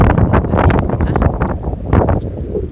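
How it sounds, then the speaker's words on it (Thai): Cold wind buffets the microphone beside a freshwater lake, a loud, gusty rumble that surges and eases in rough bursts throughout, with no voices. "โอ้ยลมพัดหนาวมากเลยค่ะเพื่อน"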